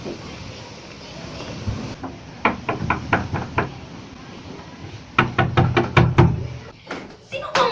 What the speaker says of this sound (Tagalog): Sino bang mga walang modo ang kumakatok sa aking pintuan?